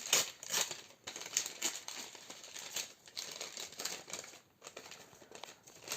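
Wrapping on a St. Nicholas gift package crinkles and rustles steadily while it is opened up close, with continuous crackly bursts and no talk.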